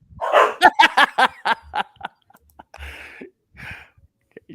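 A dog barks in a rapid run of five or six loud, close yaps in the first two seconds, followed by a few fainter sounds and a brief voice.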